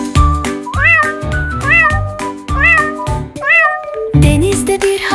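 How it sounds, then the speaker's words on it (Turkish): A small cat meows in a series of four or five clear, close, drawn-out meows with short pauses between them, followed by a brief rougher burst. "kedi."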